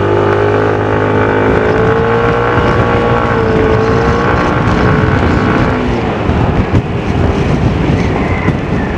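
A Yamaha NMAX Tech Max scooter engine accelerating in sports mode on a road, a loud rising drone with a climbing whine, heavy wind buffeting throughout and no speech.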